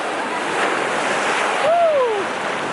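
Surf washing onto a beach with crystal-clear water, a steady broad wash of breaking waves and wind close to the microphone, with a brief high gliding bird-like call partway through.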